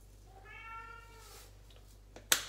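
A cat gives a single clear, drawn-out meow close by in a quiet home kitchen, followed by a short sharp knock or click.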